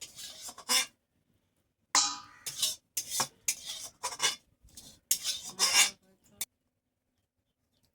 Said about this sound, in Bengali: আমার কড়াইটা পরিষ্কার করা হয়ে গেছে